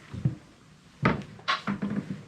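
A cabinet drawer on a boat opens and shuts, giving a soft bump, then a sharp thud and a few quick knocks and rattles close by.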